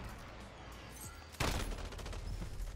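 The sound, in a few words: PKM machine gun firing in video game Modern Warfare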